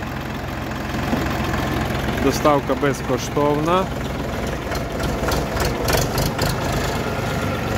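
A small 2023 Orion RF-244 compact tractor engine idles with a steady, close chugging rumble throughout, while someone speaks briefly over it.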